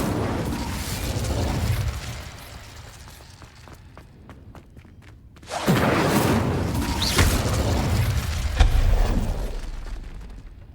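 Casting the Incendio fire spell in Hogwarts Legacy, a sudden loud whooshing fiery burst erupts midway and roars on with a sharp crackle, following a quieter stretch of rumbling and soft clanking steps.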